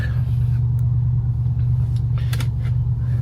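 V8-powered car engine idles and runs in drive, a loud continuous low rumble filling the whole stretch, with faint clicks and noises over it.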